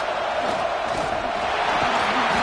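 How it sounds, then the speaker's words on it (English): Packed college football stadium crowd roars continuously as the defense holds in the red zone, a dense, loud wall of cheering and yelling sustained without a break, with play-by-play commentary faintly underneath. "this crowd getting behind its defense"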